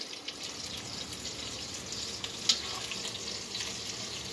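Meatballs frying and browning in a pan, a steady sizzling crackle at moderate level with small pops and a brief sharp tick partway through, no voices present.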